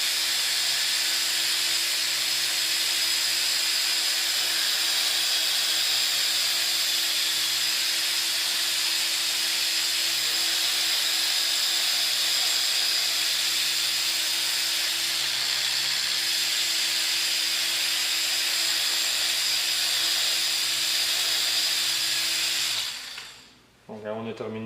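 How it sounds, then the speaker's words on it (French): Dual action polisher buffing a car wheel during finishing, a steady loud motor whine with a broad hiss running continuously for over twenty seconds, cutting off abruptly near the end. "on va y aller en double action 1 pouce encore une fois"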